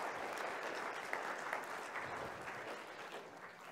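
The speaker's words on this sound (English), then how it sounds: "Let's give our friends a round of applause." A church congregation claps for friends during a Sunday morning service, a brief even burst of applause, moderately loud and sustained throughout.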